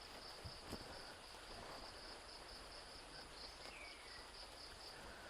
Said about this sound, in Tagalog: At ang ganda ng mga tunog ng ibon. Tsaka kuliglig.